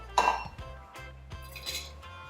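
A mixing bowl is picked up and set down on a kitchen counter while preparing a mayonnaise and sriracha sauce, giving a few close ceramic clinks and knocks with light handling noise between them.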